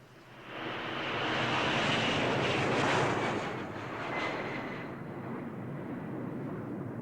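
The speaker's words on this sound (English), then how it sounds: "No, it's a plane." A fixed-wing airplane engine roars up loud from near silence, holding a steady broadband drone for several seconds before easing slightly, with no voices over it.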